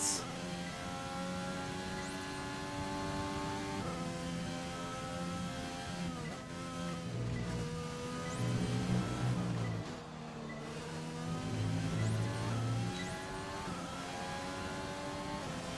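F1 race car engine in the F1 2020 video game, driven on hard tyres at the Austria track: a quiet, steady, high-pitched engine whine that rises and drops with repeated gear shifts, playing alone.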